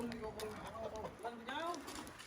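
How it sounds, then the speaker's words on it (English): A pure white rooster clucks and calls in a series of short, pitched bursts close by outdoors in the Philippines, while people talk over the sounds. "Oh, that's a pretty chicken."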